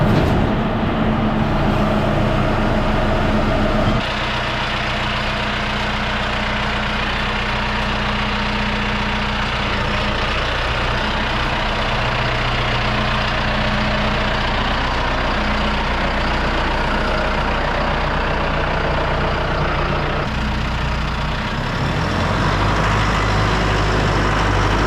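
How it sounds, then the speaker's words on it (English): A John Deere 5115M tractor engine idles close by, a loud, low, steady diesel drone with a constant rumble that holds for the whole stretch and shifts slightly in tone near the start and end, with no talking. "Let's get the tractor and the mower out."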